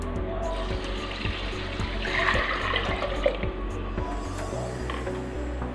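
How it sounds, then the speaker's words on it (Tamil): Water is poured into a pot of rice and lentils for pongal, a steady splashing trickle that swells midway and then settles, close by, with faint clicks and a low background hum. "நான் வந்து 3 கப்பு தண்ணி சேர்க்குறேன்."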